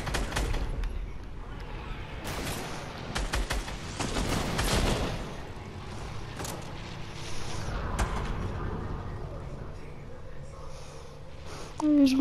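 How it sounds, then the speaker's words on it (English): Dynamite explosions in a video game sphere event thump and crackle in repeated bursts, clustered early and scattered later, over a steady rumbling background. "Dynamite is being exploded!"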